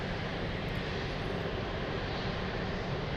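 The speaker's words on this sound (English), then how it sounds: "Lufthansa cargo." Lufthansa cargo aircraft at Frankfurt airport, a steady broadband jet engine roar that holds at an even level and fills the whole stretch with no pauses.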